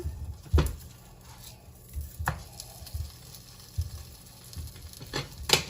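A cheese-filled pupusa, pressed flat like a thick tortilla and flipped, cooks on a hot griddle with a soft, low sizzle. Faint pats and scrapes break in now and then.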